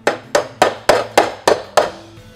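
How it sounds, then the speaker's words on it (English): A hammer strikes gutter nails back into a house seven times in an even, steady rhythm, each blow a sharp close metallic knock with a brief ring, no talking. "You take a hammer"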